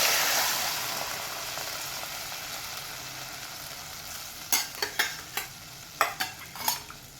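A spiced tempering sizzles and fries in a pan, a steady hiss that fades slightly, then a run of about eight sharp scraping stirs of a spoon against the pan near the end, no voices.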